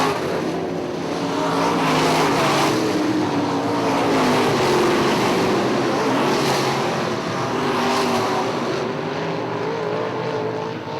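IMCA Modified race cars circling Ionia Raceway Park, a steady loud engine roar with several cars passing in swells, no voices over the continuous racing noise.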